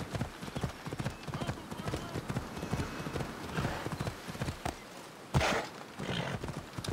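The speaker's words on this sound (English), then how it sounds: "Ride on the beach with the horse." Rhythmic hoofbeats of a horse galloping on a beach in the video game Assassin's Creed Odyssey, steady and fairly close, with a person talking over them throughout.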